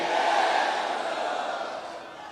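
A large crowd at a Pakistan Peoples Party public gathering in Larkana chants a slogan for Bhutto, a dense, sustained roar of many voices at steady volume that slowly fades toward the end.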